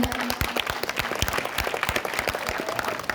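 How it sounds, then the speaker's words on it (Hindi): A school audience at an annual day celebration bursts into loud, sustained applause for a former student, dense rapid clapping filling the hall throughout. "इनके लिए जोरदार तालियां।"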